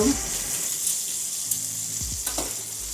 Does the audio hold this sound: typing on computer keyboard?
no